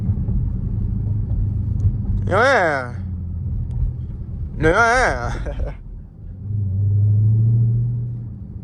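Straight-piped Dodge Charger Hellcat Widebody, candy red, rumbling steadily as it drives through traffic, with a deeper swell of engine near the end; two loud bursts of voice or music with rising pitch cut in over the drone.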